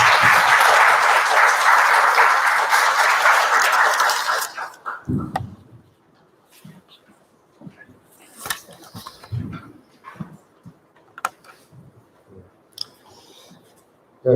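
Loud, dense audience applause welcoming a lawyer to the podium at a seminar on North Korean human rights, lasting about four seconds before cutting off to a quiet room with scattered shuffles and small noises.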